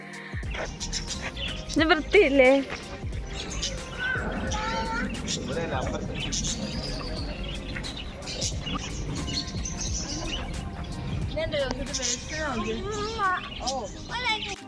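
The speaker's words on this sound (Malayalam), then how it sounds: "നല്ല വലിയൊരു കിളിക്കൂട് കുറേ കിളികളുണ്ട് കേട്ടോ" Many birds in a large aviary at a farm house, a busy layer of chirps and tweets throughout, partly under a person talking nearby.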